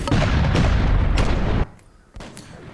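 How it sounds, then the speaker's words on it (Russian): A single loud gunshot rings out close by during a military training exercise, followed by a brief lull and then a softer echoing rumble. "Выстрел!"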